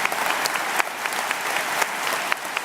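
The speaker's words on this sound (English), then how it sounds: "I'm sure you will agree with me that we give him a round of applause" A large audience claps in a sustained, dense round of applause, steady and fairly loud, with scattered sharper individual claps standing out.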